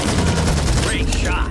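Bursts of gunfire from the Back 4 Blood video game during a four-player co-op squad fight, loud and dense rapid shots layered over game noise across the whole moment.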